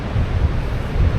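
Gusty wind buffeting the microphone on the seafront at Ayr on a windy, overcast day, a loud low rumble with uneven surges and no voices.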